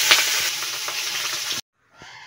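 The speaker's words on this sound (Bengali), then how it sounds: "আমি মাছগুলো আগে ভেজে নেব।" Rohu fish pieces fry in hot oil in a pan, a loud crackling sizzle that breaks off abruptly, then returns softer after a short silence.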